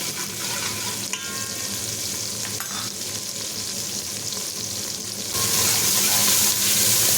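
Ginger and tomato sizzle steadily as they sauté in a pan for a chicken thanni kulambu, with stirring scrapes throughout and a brighter, louder hiss toward the end.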